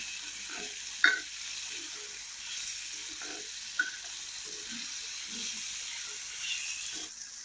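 Tomatoes with salt sizzle softly in a pan, a faint steady frying hiss broken by a few light scrapes and clinks of stirring.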